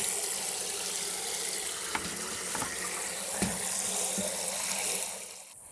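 Muddy sweet potato leaves are rinsed under a running tap, a close, steady rush of water with a few soft knocks from handling, easing off at the very end.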